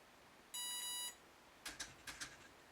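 Scorpion Commander V 130A ESC emitting a single steady electronic beep during throttle calibration, followed by a few fainter short clicks and taps.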